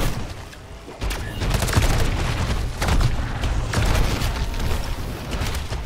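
Rapid, dense bursts of SMG gunfire from an upgraded submachine gun in Modern Warfare Zombies, sustained and loud across the whole stretch with booming impacts layered in and no talking.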